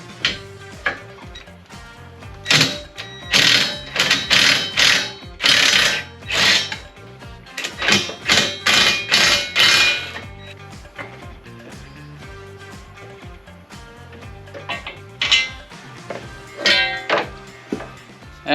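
A wrench clanks and ratchets against metal while loosening a 15 mm backing nut on a front bumper mount of a 2021 RZR XP 1000 Trails & Rocks UTV, with close bursts of rapid rattling clicks separated by brief pauses.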